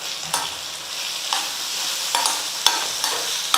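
A spoon stirs chopped ridge gourd and grated coconut in a hot pan, with repeated scraping strokes over a soft, continuous sizzle.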